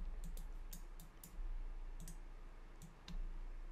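Several light mouse clicks on a computer at a desk, sharp and close, spaced irregularly over a quiet low background hum.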